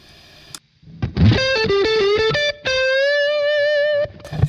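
Electric guitar through a Kemper Profiler with added gain, distorted and sustaining, playing a short phrase of bends and notes that ends on a long singing held note before cutting off; loud, solo, no speech.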